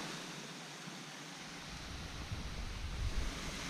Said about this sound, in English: I found another little waterfall.